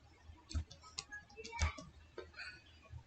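A few faint, irregular taps on a computer keyboard, typing a command into a Windows 11 run dialog, with quiet low thumps and no speech.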